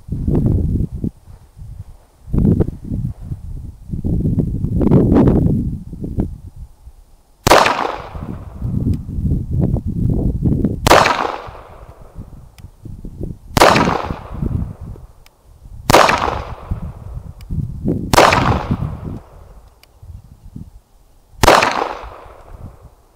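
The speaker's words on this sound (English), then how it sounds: "All right, there are 6 shots. 1, 2, 3, 4, 5, 6. With the LCP Max from 7 yards." Six sharp shots from a Ruger LCP Max .380 pistol fired at a target 7 yards away ring out at irregular intervals of a few seconds, each a loud crack with a short ringing tail over outdoor background noise.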